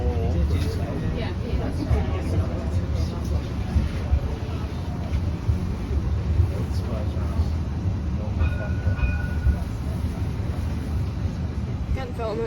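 Steady rumbling ride aboard a busy Edinburgh tram travelling the new line extension, continuous low rolling and wheel noise close around the listener, with people talking over it.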